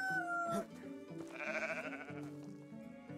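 A lamb bleating in Medieval Dynasty, one wavering, nasal bleat up close over a background of calm game music, with no speech.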